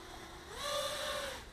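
A Walkera Rodeo 150 small RC helicopter punches its throttle, the whine of the rotor and motor sweeping sharply upward in pitch and then holding steady for a brief moment.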